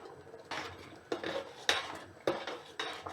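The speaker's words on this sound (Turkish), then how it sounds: "Böyle de karıştırıyorum sık sık." Metal utensil scraping and clinking against a pot of ashure (Turkish dessert pudding) with chopped apricots, several distinct stirring strokes at a steady pace, close by with no talking.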